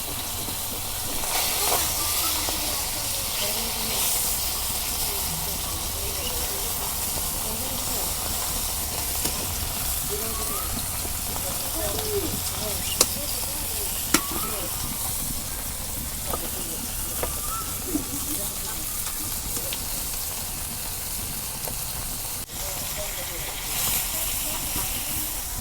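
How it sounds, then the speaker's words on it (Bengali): Kalbaus fish fry in a pan, a steady hiss and sizzle of hot oil up close, with scattered clinks and taps as the pieces are turned over, and a low background rumble. "এক পিঠ ভাজা হয়েছে, আর এক পিঠ ভাজবা নিতে উল্টাই দিই।"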